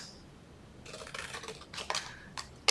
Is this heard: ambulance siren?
no